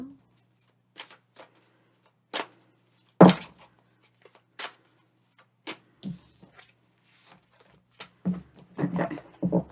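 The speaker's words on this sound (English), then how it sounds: "I think that sounds fun to just flip through them instead of shuffling and let them fall out." Sharp, scattered snaps of tarot cards being flipped and dropped one by one, irregular and close, with a few soft sounds in between.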